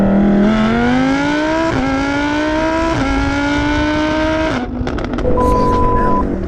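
A supercharged Audi R8 V10 Plus with a VF800 supercharger revs hard through several rising pulls, its note climbing and dropping at each shift before a brief lift-off and a lighter burble, close and loud.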